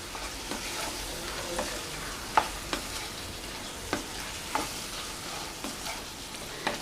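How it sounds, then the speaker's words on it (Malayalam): Washed chicken pieces stirred into masala in a hot pan, giving a low, even sizzle with sharp spoon taps every second or so, quiet and close with no talking. "നമ്മൾ കഴുകി വെച്ചിരിക്കുന്ന നമ്മുടെ ചിക്കൻ ഇട്ട് കൊടുക്കാം. നന്നായി ഒന്ന് മിക്സ് ചെയ്യാം."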